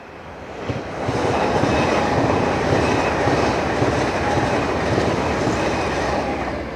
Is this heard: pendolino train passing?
yes